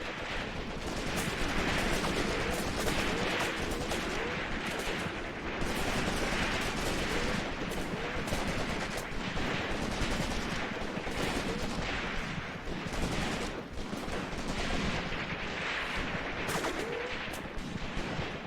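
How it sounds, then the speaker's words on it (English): Artillery shells land in the war game Graviteam Tactics, a dense, continuous barrage of overlapping blasts and distant gunfire rumbling steadily throughout with no pauses. "there's the artillery falling"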